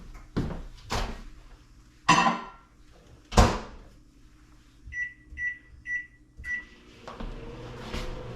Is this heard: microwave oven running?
yes